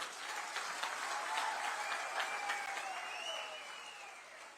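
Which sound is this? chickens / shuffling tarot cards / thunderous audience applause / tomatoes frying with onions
thunderous audience applause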